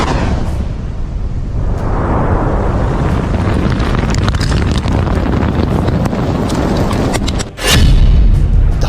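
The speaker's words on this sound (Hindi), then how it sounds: "धमाका नंबर 1," A missile strike explosion sounds as a long wind-buffeted rumble that ends in a sudden short dip and then a sharp, loud blast near the end, with no voices.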